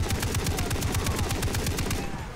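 Sustained automatic gunfire in Far Cry 3, a fast, even burst of close, loud shots lasting about two seconds before cutting off.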